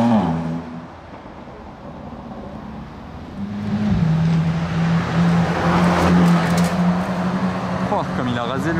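A supercar engine, a Lexus LFA, rises in pitch as it approaches and roars past nearby close to a wall in Monaco, a droning tone swelling loudly before easing off; voices chatter underneath.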